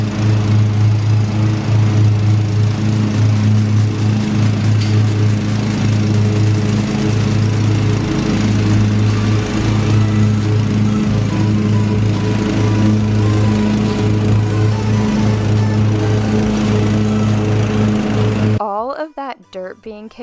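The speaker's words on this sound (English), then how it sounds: "his mower out now and he's eager to start mowing the grass" A lawn mower runs close by at full power as it cuts grass in a yard, a loud continuous engine drone that cuts off sharply near the end.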